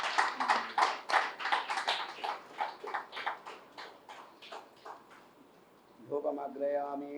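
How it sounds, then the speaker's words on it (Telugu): An audience at a Hindu lamp-lighting ceremony during a pyramid anniversary celebration claps in a rhythmic run of sharp, close hand claps that gradually thin and fade. A voice then begins speaking at the end. "ఒకసారి అందరం క్లాప్స్ తెలియజేద్దాం."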